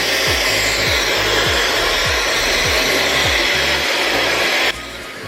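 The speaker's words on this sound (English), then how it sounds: "I just got done blow drying my hair" A hair dryer blows on hair in a loud, steady, close whoosh with a low pulsing motor hum, then drops abruptly to a quieter setting near the end. No one speaks.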